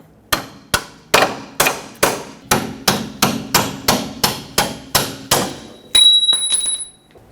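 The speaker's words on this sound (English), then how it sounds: "Punch the bolt out." A hammer strikes a punch to drive out a 19mm strut bolt on the front suspension of a 2006-2010 Hyundai Sonata: about a dozen loud, sharp metallic clanks at a steady pace, close and alone, ending in a brief ringing clatter.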